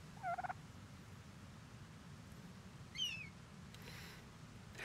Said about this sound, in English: Oh my god, it's a little baby bird!